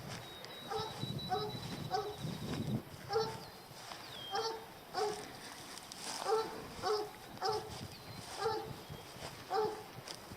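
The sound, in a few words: black and tan coonhound barking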